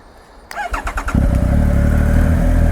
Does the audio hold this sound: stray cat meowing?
no